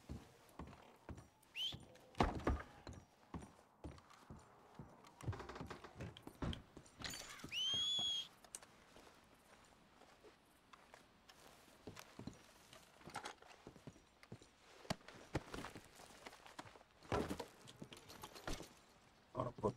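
Horse hooves clip-clop in the Red Dead video game, a series of sharp, fairly close hoofbeats with irregular rhythm, mixed with other game sounds and brief spoken remarks.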